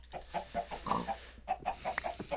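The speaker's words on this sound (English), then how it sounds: "the chickens." Chickens in a Minecraft village cluck in a quick string of short, clipped calls, fairly faint against a low hum, with a few overlapping squawks.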